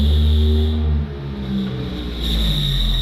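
A Vauxhall Nova 2.0 with a noisy gearbox and worn thrust bearing on the move, a loud steady engine and drivetrain drone with a whining tonal note that dips briefly mid-way, heard from inside the car without speech.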